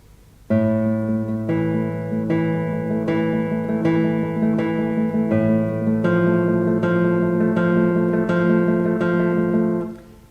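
Rapid classical guitar tremolo picking with steady repeated treble notes over a bass line, the thumb notes landing with clear accents, played alone and close.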